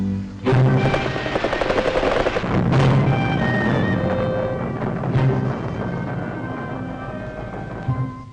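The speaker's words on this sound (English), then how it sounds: "the diabolical instruments have to be destroyed by gunfire" Loud, sustained bursts of rapid gunfire destroying sea mines, heavy and continuous for several seconds, with a few sharper booms mixed in.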